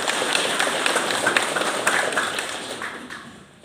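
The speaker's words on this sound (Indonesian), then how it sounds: "Sekali lagi kita tepuk tangan untuk beliau." An audience at a community event in Miomaffo Barat, Timor Tengah Utara, claps steadily in a dense round of applause that gradually fades toward the end.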